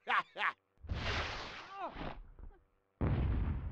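Heavy artillery fires in the cartoonish Hogs of War video game with several booming, bursting blasts. A short double pop is followed by a long rumbling explosion with a whistling streak, then another heavy blast after a brief silence.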